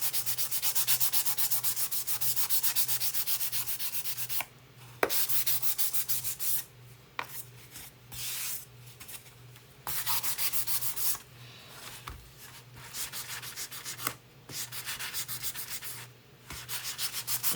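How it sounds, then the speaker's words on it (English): Wood surface being hand-sanded with 600 grit sandpaper, working around the edges of a painted Christmas bench insert; a steady close-up rasping rub in long strokes with brief pauses between passes. "I'm just gonna stick with the 600 grit sandpaper, and I'm just gonna go around the edges"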